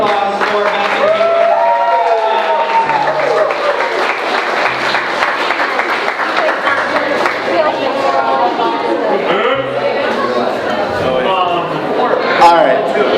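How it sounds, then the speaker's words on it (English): Wedding guests at an evening reception applaud steadily for the full length, a dense, loud wash of clapping mixed with crowd chatter and scattered cheers, with a few voices talking over it. "one more round of applause for Beth and Kate."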